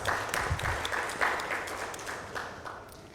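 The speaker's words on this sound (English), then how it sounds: "may we have a round of applause" Audience applause for a legal-industry panel discussion on protecting IP and data in the age of AI, a steady round of clapping from a mid-sized crowd in a conference hall, no voices.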